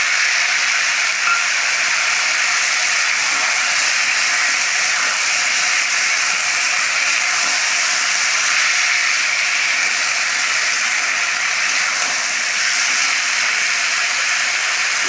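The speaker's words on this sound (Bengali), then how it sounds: "মশলাটা দিয়ে ভালো করে ভেজে নেব" Ground spice paste of garlic, garam masala, coriander, cumin and black peppercorns fries in a pan with a steady, loud, close sizzling hiss that never lets up, and no one speaks.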